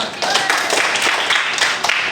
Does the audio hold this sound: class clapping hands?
yes